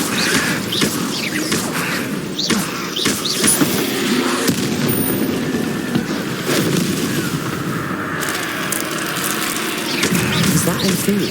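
Incendio fire spells cast repeatedly in the Hogwarts Legacy video game, heard as a string of whooshing, crackling bursts and booms over a busy rumbling mix, loud and close throughout.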